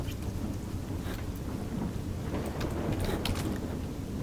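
Rain pours steadily through a thunderstorm in the video game Stalker: Shadow of Chernobyl, a constant hissing downpour with rolling low thunder and occasional sharper crackles, no speech over it.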